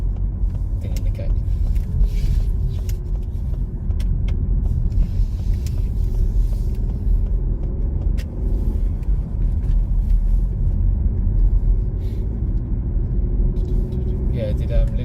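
A learner driver's car pulling away in first gear, a steady low engine rumble running under ongoing cabin conversation, with no sharp revving.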